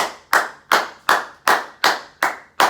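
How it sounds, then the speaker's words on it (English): Seven sharp, evenly spaced hand claps close by, each a crisp slap with a short decaying tail, delivered at a steady rhythm of roughly two and a half per second with no speech. "And then I'll start clapping."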